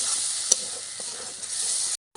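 Spinach paste with spices sizzles steadily in a pan while being stirred for palak paneer, making a constant bright frying hiss with a single utensil knock near the start, then a sudden cut to silence.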